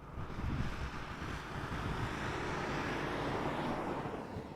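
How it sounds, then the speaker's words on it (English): A KLM Boeing 737-800 arriving at Amsterdam Schiphol from Paris makes a broad, steady jet roar, loud and close, mixed with wind rushing across the microphone. "So this is KLM flight 1224 arriving from Paris Charles de Gaulle."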